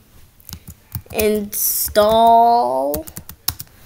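Keys clatter on a Chromebook keyboard as a command is entered, with quick light clicks scattered around and beneath a person talking close by.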